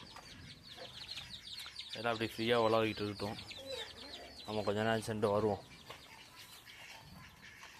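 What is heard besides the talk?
chickens clucking, new hen roaming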